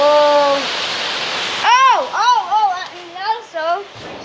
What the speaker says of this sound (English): This heavy rain might flood our house.